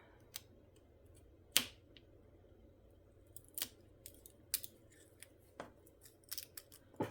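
Protective cover being slowly peeled off candles in a candle set, giving quiet scattered crinkly tearing sounds in several short bursts against a low background hum.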